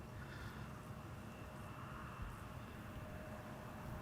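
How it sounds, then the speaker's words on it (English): An airliner roar, a Delta Airlines A330 going around at Schiphol, is a steady, faint, distant rumble that holds level throughout. "Delta Airlines A330 overshooting a little bit"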